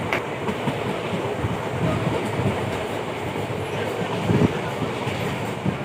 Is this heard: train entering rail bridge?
yes